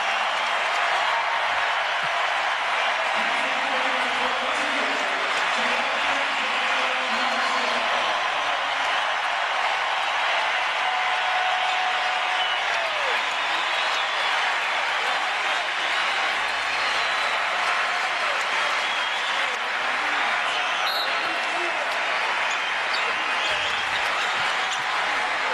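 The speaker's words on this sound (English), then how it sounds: "And a standing O for Daniel Marshall" Basketball arena crowd rising in a standing ovation for a player, a sustained loud roar of cheering and clapping that fills the whole stretch, with broadcast commentary faintly underneath.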